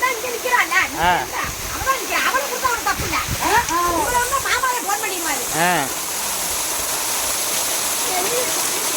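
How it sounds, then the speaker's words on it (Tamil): Water pours steadily down a waterfall in a continuous rushing hiss, with voices talking over it in the first part before the falling water continues alone. "நல்லா விழுகுது தண்ணி."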